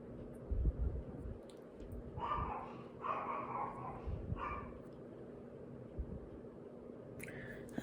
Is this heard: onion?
no